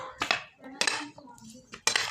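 A spoon scraping and clinking against a bowl while mixing fruit chaat, three or four close, sharp strokes at an uneven pace.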